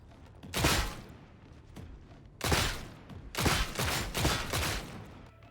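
Las pistol fire in a video game, with repeated sharp bursts of shots that come in clusters. They are fairly loud and close and separated by short pauses, with no talking.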